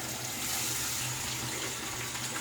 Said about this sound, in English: So razor down under the water.